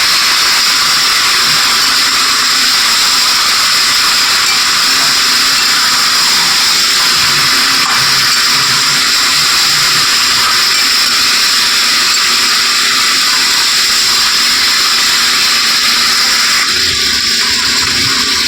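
Mutton with turmeric powder is stirred in a hot pan, a loud steady sizzle and hiss of oil running without break, with faint scraping underneath and no voices.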